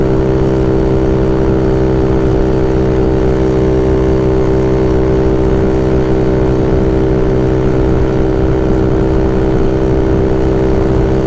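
A Honda Ruckus scooter with a 171cc GY6 engine runs at a steady high drone on a freeway, loud and constant, with wind rushing over it and no talking.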